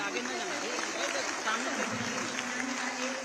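Hearty audience applause welcoming the chief minister at the Silk Expo inauguration, a dense continuous roar of clapping running the whole clip while a voice carries on over it.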